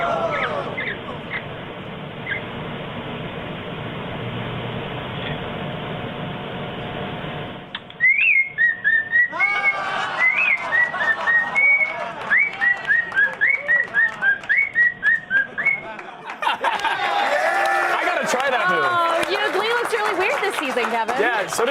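A male cockatiel whistles a tune in a string of clear, bright, rising and falling notes, loud and close. Someone talks over a noisy background before the whistling, and a scratchier passage follows it.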